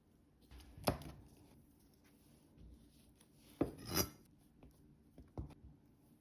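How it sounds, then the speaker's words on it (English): A knife slices through a block of sharp cheddar cheese to cut small cubes, a few sharp isolated cuts and taps on a board with quiet pauses between them, close and faint. "grab a block of sharp cheddar cheese, about 8 ounces, and cut it evenly into 64 small cubes"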